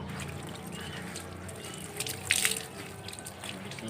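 Water splashed onto a person in a Sundanese comedy prank, heard as a steady pouring wash with one brief, brighter splash in the middle, close and fairly loud.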